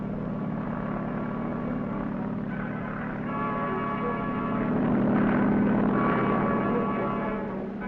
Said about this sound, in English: Carrier helicopters also play an important role on the sub-hunting team.